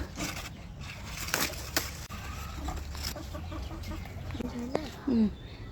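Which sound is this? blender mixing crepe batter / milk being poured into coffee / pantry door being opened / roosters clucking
roosters clucking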